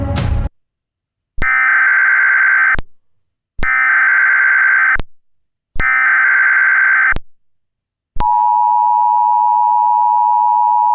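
Three bursts of a harsh two-tone alert, each about a second and a half with short gaps, then a steady single tone begins; the tones seem to swell in at the start of each burst, with no voices.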